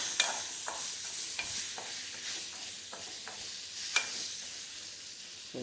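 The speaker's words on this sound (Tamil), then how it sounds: "சாம்பார் பொடி போட்டு கொஞ்சம் நல்லா வதக்கிக்கலாம்." Stirring and sizzling in a pan as sambar powder is sautéed, a soft continuous fry hiss broken by a few sharp scraping clicks of the spoon against the pan.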